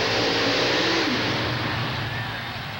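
The fuel-injected small-block engine of the 2,700-pound monster truck Bad to the Bone, from Fresno, California, at a 1990 USHRA mud event in San Diego, roars loudly and steadily, then eases off slightly toward the end.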